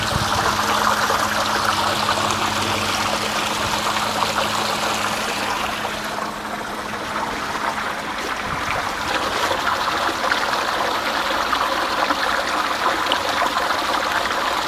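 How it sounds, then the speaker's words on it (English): Continuous trickling, rushing water runs steadily as a pump refills a tank through its overflow, with a faint low hum of the pump beneath it. "Pump's getting the water level back up"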